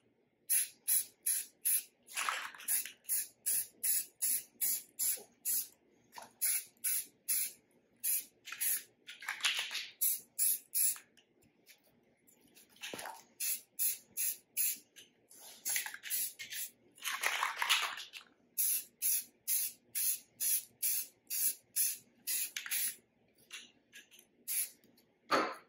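Aerosol spray paint applied to AR rifle furniture in repeated short bursts, each a sharp hiss lasting about a second, with a few longer sprays and quiet gaps between, close and clear.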